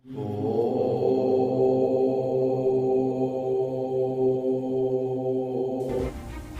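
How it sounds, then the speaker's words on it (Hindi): A long, steady chanted Om, a deep resonant voice holding one droning tone for several seconds before it breaks off into a noisy burst. "ओम की आवाज़ है।"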